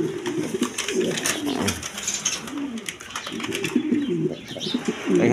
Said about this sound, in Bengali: দেখেন এটা মন্ডিয়ান খামারি কবুতর